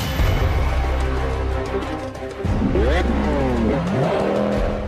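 A high-performance sports car engine, among models such as a Chevrolet Corvette, Lamborghini or Ferrari, roars and revs hard, pitch climbing through quick gear changes with a brief tire squeal, loud and close under a narrator's voice.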